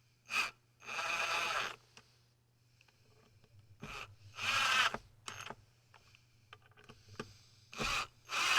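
A freshly painted hinge on a camper door creaks as it is worked open, giving several squeaky, drawn-out creaks in irregular bursts separated by quiet gaps, close up and with no speech.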